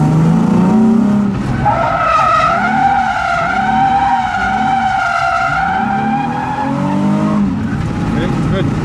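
Car drifting at a drift academy, with tires skidding and squealing in long sustained whines over a revving engine, loud and close for nearly the entire stretch.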